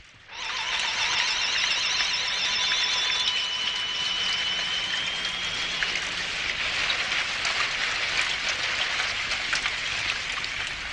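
Steady rain pours down in an animated cartoon scene, a continuous hiss that starts abruptly and holds at an even level, with a faint high whistling tone running through its first half.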